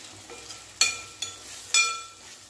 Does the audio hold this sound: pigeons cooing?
no